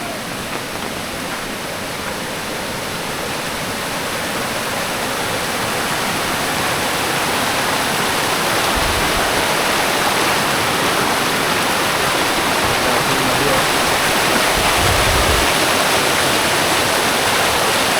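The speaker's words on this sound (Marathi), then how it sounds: "त्या नदी थोडीशी दाखवतो तुम्हाला किती पाणी आलं त्या नदीला." A river swollen with lots of water rushes in a steady, dense roar, close and unbroken throughout, with no voices.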